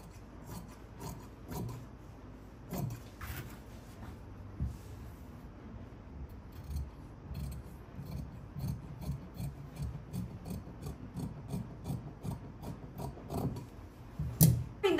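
Fabric being cut out for the back panel of a katori blouse, with soft, irregular scissor snips and rustling cloth close by over about fifteen seconds, with no talking.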